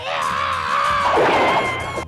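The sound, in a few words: Tom screaming in Tom and Jerry cartoon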